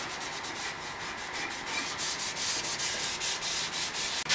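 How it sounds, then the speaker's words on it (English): A Scotch-Brite pad scrubs the WD-40-sprayed metal table of an old bandsaw being restored, producing a continuous close abrasive rubbing with repeated strokes and a short knock at the end, without talk. "And then I've got a scrubby Scotch-Brite thing. And I'm just gonna clean it up."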